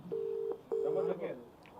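An outgoing phone call ringing unanswered: two steady ringback tone bursts, one after the other, close and clear, followed by a few faint indistinct voice sounds.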